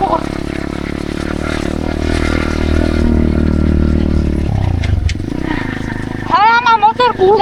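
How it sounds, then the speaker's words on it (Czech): A Lera Motor Spy Apollo Thunder 125cc pit bike runs with a steady, loud engine drone for several seconds, then the revs shift and drop away briefly before a voice starts talking near the end. "já mám motorku, Lera Motor Spy Apollo Thunder 125 CCM"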